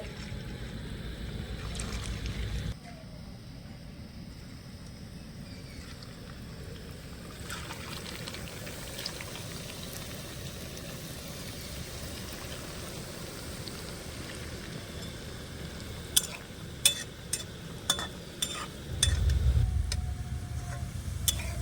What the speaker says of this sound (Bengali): এবার আমি পিঠেগুলো ভেজে নেব